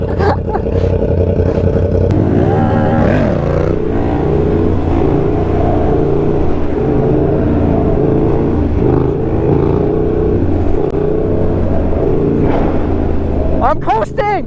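A Yamaha R1 sportbike with a huge hole blown in its exhaust roars and revs loudly while riding, its raw, rough drone rising and falling, with voices shouting over it near the end.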